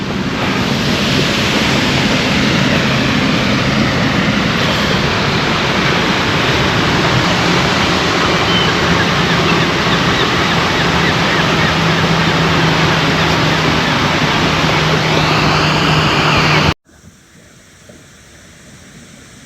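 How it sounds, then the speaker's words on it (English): A park waterfall running with low water makes a loud, steady broadband rush close to the microphone for most of the stretch, then cuts abruptly to quieter background near the end. "Waterfalls is right there. I'm sure you can hear it."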